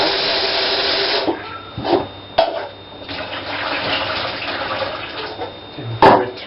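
Water runs from a tap while items are rinsed in a home kitchen, a steady close hiss interrupted by a few splashes and knocks, with no talk.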